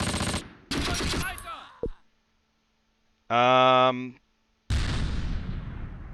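Machine gun fire from the World War II tactical game Close Combat, heard as loud rapid bursts, with a short harsh burst, a tonal blast and a final sustained roll of gunfire separated by brief silences.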